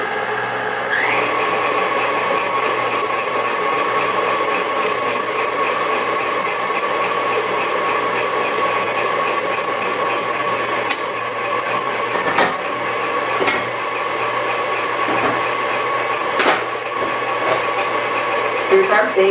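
An electric hand mixer runs steadily through almond cake batter with eggs beaten in, giving a continuous whirring motor drone with faint rattling clicks and a voice talking quietly underneath.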